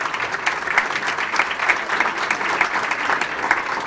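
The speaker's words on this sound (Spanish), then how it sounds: "recibamos con un fuerte aplauso a nuestro querido invitado" Audience applause at a Peru–France international relations event at a university, welcoming the French ambassador; a dense, steady patter of many hands clapping, moderately loud and continuous, with no talk over it.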